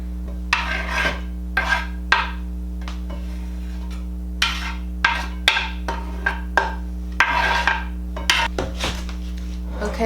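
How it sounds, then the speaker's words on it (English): Cooled chopped vegetables for a Guatemalan ensalada rusa tipped and scraped into a bowl, giving a series of close, irregular rasping scrapes and soft clatters over a steady low hum, with no talking. "the vegetables have cooled down, so I'm just going to add them in the bowl carefully"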